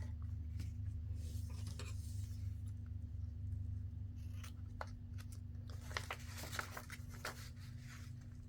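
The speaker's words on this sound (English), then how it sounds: "Cut my corners off to make my tag." Scissors snipping the corners off a paper tag for a book-page craft project, a few faint, quick cuts over a low steady hum in a quiet room.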